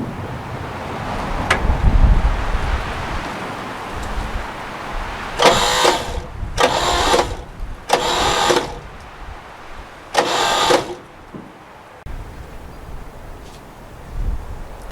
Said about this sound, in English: Didn't sound like the starter engaged.